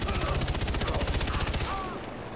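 Rapid gunfire and a helicopter's rotor chop fill a Far Cry 3 battle, a dense, loud, rhythmic pulsing burst that thins out near the end.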